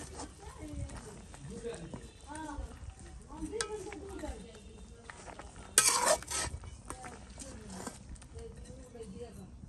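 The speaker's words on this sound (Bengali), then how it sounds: "আমি এখন ভাজা মাংসগুলো এটা দিয়ে দেব।" Fried meat tipped into a simmering pot and stirred, with soft sizzling and clinks of a utensil against metal under steady talking, plus one brief louder clatter midway.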